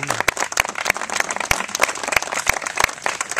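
A crowd gives a round of applause for an Eagle Scout at the opening of a basketball court, a lively spread of clapping with several loud, distinct nearby claps standing out from the rest.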